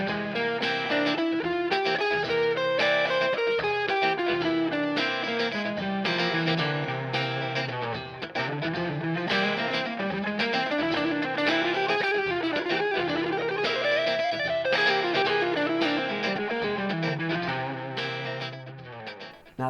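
Electric guitar run through distortion, chorus and echo effects, climbing and falling a Mixolydian flat 6 scale in steady continuous phrases, loud and alone for about twenty seconds.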